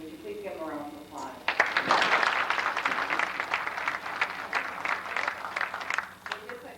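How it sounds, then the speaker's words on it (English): A room of diners applauds at an American Legion award dinner. The clapping swells in after a brief moment and holds steady, moderately close and busy, with some voices mixed in. "Would you please give them a round of applause?"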